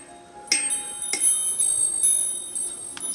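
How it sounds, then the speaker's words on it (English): Small chimes hanging on a little indoor lamp ding several times in quick succession, bright sustained metallic tones ringing on and overlapping as they slowly fade, clear and close with no talking. "I have chimes on this little lamp that I have here, and they were dinging."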